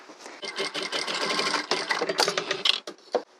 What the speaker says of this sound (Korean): 여기 시접에다가 이 부분을 재봉틀로 한번 박아줘요.